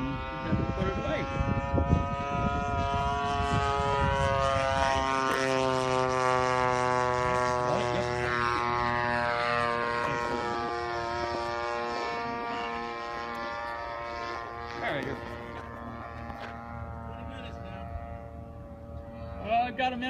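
An 89-inch radio-controlled Decathlon model airplane flies overhead, its engine droning in a strong steady buzz that sweeps in pitch as it passes and slowly fades, while people talk nearby.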